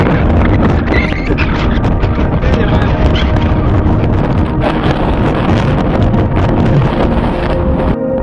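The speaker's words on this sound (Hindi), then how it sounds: "इतनी तेज हवा चल रही है यहाँ पे" Strong wind roaring and buffeting the microphone on a hilltop at Sinhgad Fort, Maharashtra, loud and constant, with gusty rumbles throughout.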